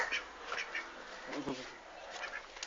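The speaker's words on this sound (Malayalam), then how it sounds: "ചെമ്പല്ലി ഇനത്തിൽപ്പെട്ട താറാവുകളെയാണ് ആറ് താറാവുകളാണ് ഞാൻ വളർത്തുന്നത്" Chemballi breed ducks kept in a small wire-mesh coop, giving faint, scattered quacks at a distance over a quiet background, with a little talk.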